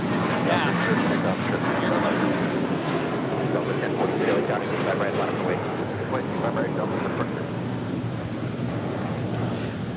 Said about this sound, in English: This is American Airlines Flight 307 taking off to JFK on an A321.